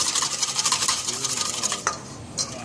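Oil is whisked into mayonnaise in a bowl, with a quick rhythmic scraping whisk for about two seconds, then a couple of lighter strokes, close up and fairly loud.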